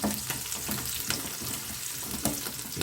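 Garlic and green chillies frying in a pan, a steady close sizzle with occasional brief crackles and stirring scrapes throughout.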